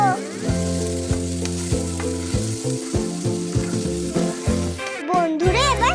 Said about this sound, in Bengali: রসুনটাকে নেড়ে চেড়ে ভেজে নেবো।